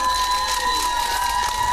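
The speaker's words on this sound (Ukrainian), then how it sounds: "Ваші оплески Олечці." A crowd at an outdoor karaoke show on a town square cheers and applauds for a girl, a dense burst of clapping and shouting with a bright sustained musical tone running through it.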